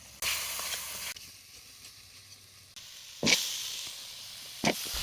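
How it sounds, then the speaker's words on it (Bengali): Raw cumin seeds frying in oil with turmeric, chili and salt, giving short bursts of hissing sizzle separated by quieter gaps and a couple of sharp spikes, heard up close and alone. "আমি একটু কাঁচা জিরা কষিয়ে নিয়েছি।"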